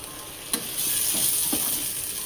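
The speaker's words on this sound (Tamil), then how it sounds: "தக்காளி ஆட் பண்ணி நல்லா கிளறி விட்டு அதுவும் நல்லா வதங்கணும்" Onions and tomato frying in a pan for a prawn dish, a constant bright sizzle broken by a few distinct stirring scrapes of the spoon.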